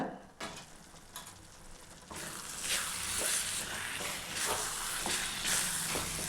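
Potato and spinach masala cooks in a pan, a steady frying sizzle with stirring scrapes that grows louder and fuller partway through, continuing without speech.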